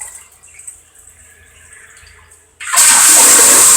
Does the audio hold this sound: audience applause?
no